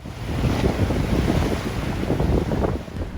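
Wind and ocean waves offshore in the Indian Ocean within Kenya's territorial waters aboard a military vessel, a continuous loud rush of wind buffeting and surf with rumbling swells and no speech.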